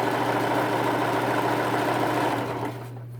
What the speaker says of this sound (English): I'm going to pull, and then I'm going to sew.